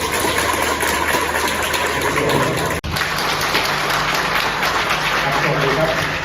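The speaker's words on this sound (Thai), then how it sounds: "ขอเสียงปรบมือต้อนรับ" Audience applause welcoming a speaker at a lecture at the Army War College, a dense continuous clatter of many hands that fills the room throughout, broken only by a brief dropout near the middle.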